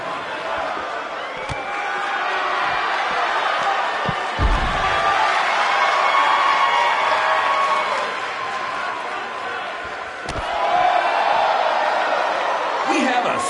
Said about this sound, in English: Sold-out, record-setting crowd here for BCW tonight.